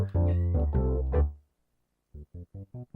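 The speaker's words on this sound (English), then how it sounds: "I don't know if you guys heard that, but the cat agrees." A cat indoors gives one long, drawn-out meow up close, then a quick run of five short, evenly spaced calls after a brief pause.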